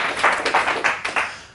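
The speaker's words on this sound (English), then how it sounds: "let's give him a round of applause" An audience claps to welcome a speaker at a property mastermind event, giving a brief, fairly loud burst of applause with distinct individual claps that fades out within a couple of seconds.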